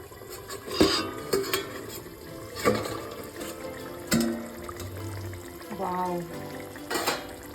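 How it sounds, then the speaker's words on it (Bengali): A lid is lifted off a cooking pot of simmering loitta fish curry, giving sharp clanks and metallic knocks spaced through the clip amid soft bubbling and kitchen handling. "তো আমি ঢাকাটা একবার তুলে দিই"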